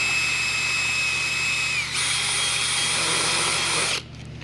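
A power drill fitted with a 1/2 inch countersink bit drills out a rivet on a seat, a steady loud high whine that jumps in pitch and rough cutting noise partway through, then stops abruptly near the end.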